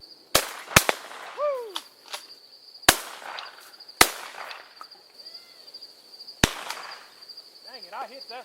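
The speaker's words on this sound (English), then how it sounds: "just show you in the rest of this video of me shooting H&R Excell Auto 12 gauge" Sharp, loud blasts from an H&R Excell Auto 12 gauge shotgun fired outdoors, five shots spaced irregularly with a ringing tail after each, over a steady high insect-like drone and some chirping birds.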